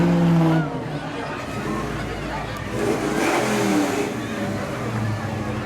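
A flaming truck from a reverse fire department revs its engine along a parade route, a loud mid-pitched roar rising and falling amid crowd chatter and voices.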